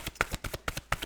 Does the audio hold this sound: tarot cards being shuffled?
yes